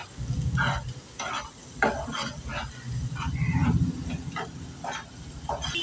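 Food being stirred and roasted in oil in a pan, with steady close sizzling and repeated scraping strokes of the spoon at an irregular pace throughout.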